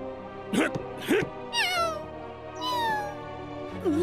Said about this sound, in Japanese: メアリーの猫をあんな風にいじめるなんてひどすぎるよ。